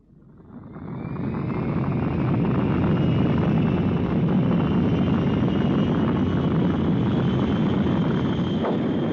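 Aircraft engines spool up during a structural test and settle into a loud, steady roar that holds unchanged for several seconds, close and continuous with no speech.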